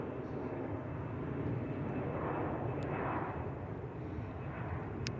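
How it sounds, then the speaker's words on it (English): An Alaska Airlines Boeing 737-900ER arriving at San Francisco airport from Portland, heard as a steady broad jet roar that swells gently in the middle, distant but continuous, with a few faint chirps over it. "Our next arrival is going to be Alaska Airlines Boeing 737-900ER coming in from Portland."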